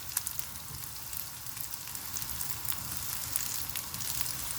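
Jackfruit frying in a pan, giving a steady, crackling sizzle with bright spitting pops scattered through it, close and continuous with no talking.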